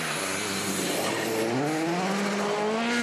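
Volkswagen Polo R WRC rally car at the 2013 Rally Sweden, its engine revving loud and close with rising harmonic sweeps through gear changes, a sustained high-pitched racing howl.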